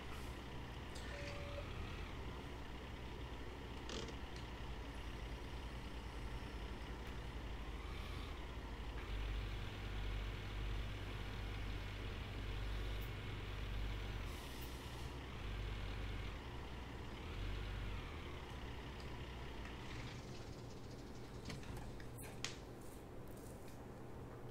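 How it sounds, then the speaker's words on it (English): Truck in the mining game Gold Rush: The Game driving steadily with a loud, continuous low engine rumble, with brief air-brake hisses and faint beeps rising over the drone. "I'm gonna bring the truck over."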